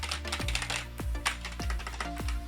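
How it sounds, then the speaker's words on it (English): Keystrokes on a Logitech G213 non-mechanical membrane gaming keyboard, a fast run of crisp, fairly loud clicky taps close to the microphone, with a few heavier key thumps spaced through the burst. "have really nice kind of clicky keys that feel good to type on"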